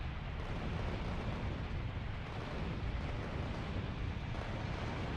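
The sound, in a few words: artillery strikes hitting biter nests in Factorio video game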